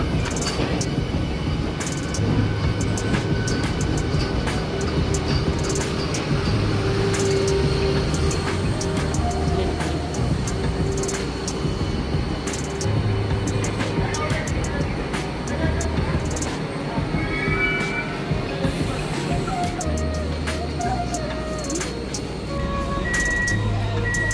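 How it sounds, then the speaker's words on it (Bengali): An air-conditioned Krishnanagar–Sealdah local train pulls out of Chakdaha station, a steady rumbling rattle of wheels and carriage interior noise with clicks and a faint tonal whine, continuous and close. "ট্রেন এখন আমাদের চাকদা স্টেশন থেকে ছেড়ে দিয়েছে এবং পরবর্তী স্টপেজ দেবে কল্যাণী।"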